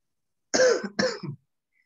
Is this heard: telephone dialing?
no